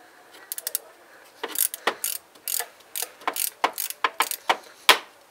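A ratchet wrench loosens a 10 mm bolt on an engine cover during fuel rail and cooling system removal, giving rapid bursts of sharp metallic clicks, close and fairly loud, in an uneven rhythm with brief pauses between strokes.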